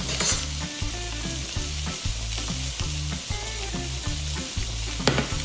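A thin cut steak sears in a hot pan with a steady, close sizzle, the frying hiss running unbroken and loud throughout with faint low-pitched pulsing underneath.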